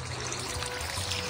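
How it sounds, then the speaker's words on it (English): Water gushes steadily from a pump outlet, flooding a yard path, a constant close splashing pour with no voices over it. "We're pumping right now. It's flooding the path and just flooding the yard."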